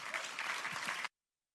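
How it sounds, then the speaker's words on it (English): Audience applause at an academic conference panel welcoming the speakers, a steady burst of clapping that stops abruptly after about a second. "please join me in welcoming them with a round of applause"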